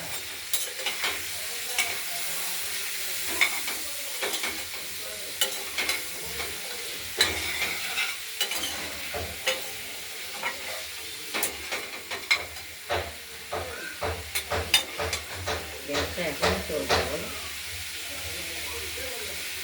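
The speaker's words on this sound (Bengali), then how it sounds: "আর লঙ্কা ফোড়ন দিয়ে কুমড়ো ভাজা" Thinly cut pumpkin sizzles and hisses steadily in hot oil in a pan while a utensil scrapes and taps against it in irregular stirring strokes, close by.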